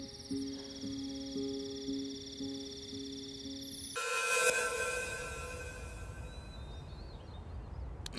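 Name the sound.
telephone ringing unanswered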